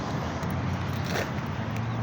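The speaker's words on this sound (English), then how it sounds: "let me get away from this traffic right here" Street traffic rolling past nearby as a steady, loud broadband rumble that fills the whole stretch, with no voices.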